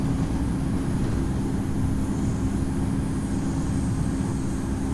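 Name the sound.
Singapore Airlines A350-900 taking off in the video game Infinite Flight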